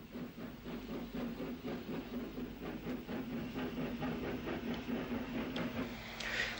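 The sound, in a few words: Mogul steam locomotive working a train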